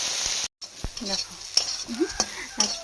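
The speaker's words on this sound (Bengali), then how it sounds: "আর এর মধ্যে কিছু পেঁয়াজ দেবো, পেঁয়াজ দিয়ে অল্প একটু ভাজবো" Onions and chopped banana sizzle in a pan with a little oil, a soft steady fry broken by a brief gap and several sharp scrapes and taps of a stirring utensil.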